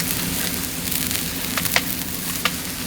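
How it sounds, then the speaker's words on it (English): Maple-marinated meat sizzling in a hot pan as it is basted with bear fat, giving a steady crackling hiss close by with a few sharper pops and no talking. "A little more bare fat basting. Yep. Spread it around. Sizzling right in there."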